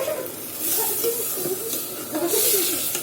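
Curry is stirred in a hot pan with a soft, continuous sizzle and hiss. Gentle scraping swells come in a few uneven pulses.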